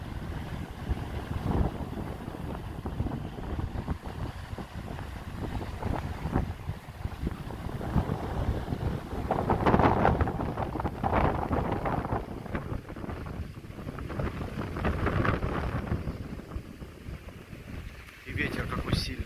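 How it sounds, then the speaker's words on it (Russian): Strong, gusting wind on a wide sandy beach buffets the microphone in a continuous low roar, swelling and easing throughout, with some indistinct talking mixed in. "Ветер какой сильный он."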